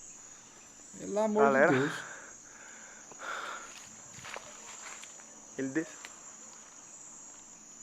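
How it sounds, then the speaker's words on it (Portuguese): Crickets in leaves at night, a steady high continuous chirping drone throughout with scattered faint clicks and rustles, while people speak briefly nearby. "Esses estalos aqui é muito grilo também nas folhas"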